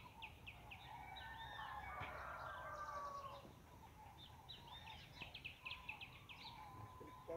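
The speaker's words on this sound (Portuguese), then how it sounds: "Um frango d'água." A moorhen calling outdoors, with repeated clucking and chattering notes and a drawn-out call through the first half, then scattered shorter calls, faint and somewhat distant over low background noise.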